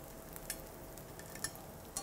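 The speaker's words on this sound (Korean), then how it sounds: "팬 바닥과 바질 오일이 만나면서 지글지글 끓는 소리가 들리죠?" Bread toasting in basil oil in a frying pan gives off a soft, steady sizzle with a few small crackling pops, close and alone with no voices.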